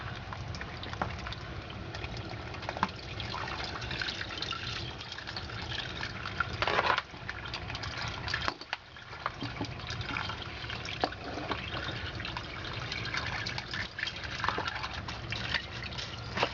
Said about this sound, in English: That's the water flow rate right there.